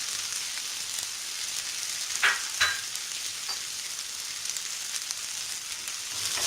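Egg fried rice with red chili sauce sizzles in a pan over a low flame, a continuous frying hiss broken by a few brief scraping stirs of a spoon.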